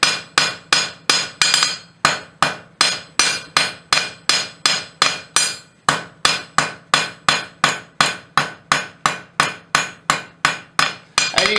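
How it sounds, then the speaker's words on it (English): A hammer strikes hot steel on a blacksmith's anvil again and again in a steady, brisk rhythm while forging a leaf, loud and close, each blow ringing sharply with no voices. "use the heel of the hammer to pull out the left hand side"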